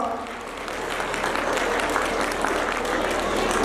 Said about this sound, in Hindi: जरा जोरदार ताली से स्वागत करें बच्चों का